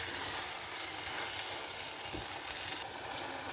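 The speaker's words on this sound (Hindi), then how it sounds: "5 मिनट तक मैंने इसको अच्छे से भून लिया है और माशाल्लाह जी आलू जो है वो गल भी गए हैं" Potatoes for a quick sehri dish fry in a pan after about five minutes of cooking, a soft, continuous sizzle and hiss with faint stirring bumps, fairly quiet and close, with no voices.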